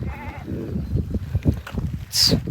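A flock of about 250 sheep tended by a shepherd bleats nearby, short overlapping bleats amid rustling and shuffling of the herd.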